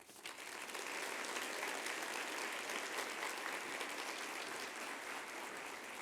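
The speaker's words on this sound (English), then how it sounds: "Let's give them a round of applause." Guests at a children's organization's 75th anniversary luncheon applaud, a dense, continuous patter of many hands heard at a moderate distance with no break for six seconds.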